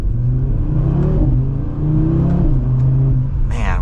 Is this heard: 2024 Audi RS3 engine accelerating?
yes